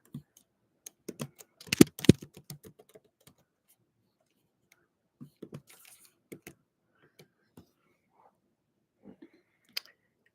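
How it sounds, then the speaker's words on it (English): Typing on a computer keyboard: scattered, quiet key clicks heard close, with a brief dense flurry early on and then sparse taps spread across the rest, no talk. "So I'm just gonna type this."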